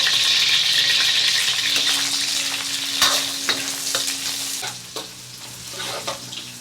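Dried chilies and scallions fry in hot oil in a wok, giving a loud, steady sizzle with scattered stirring clicks and scrapes that ease slightly toward the end.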